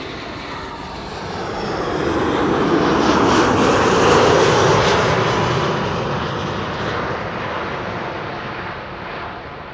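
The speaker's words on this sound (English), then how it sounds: "So Transavia flight 5424 arriving from Pisa is now flying behind me." Transavia airliner arriving from Pisa at Amsterdam Schiphol on a sunny day, its engine roar swelling from a distance to a loud peak and slowly fading as it flies past, with some wind noise.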